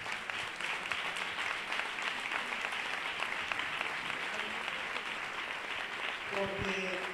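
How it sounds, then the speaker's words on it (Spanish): Audience applause at a flamenco awards ceremony and fashion runway event in Jerez, steady crowd clapping filling the whole stretch at a moderate distance, with a brief low tonal sound near the end. "Un aplauso para ella, por favor."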